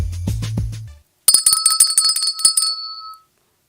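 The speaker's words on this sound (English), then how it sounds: "we still got to fix your bell" A bell rings out in bright, sustained repeated strikes with a lingering tone, alone after a brief stretch of music that cuts off.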